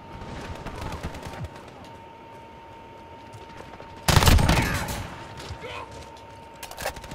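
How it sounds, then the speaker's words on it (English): Automatic burst fire from a gun in Call of Duty: Modern Warfare, a loud, dense close-range volley of shots lasting about a second, with scattered fainter gunshots and game effects around it. "now it's doing burst fire"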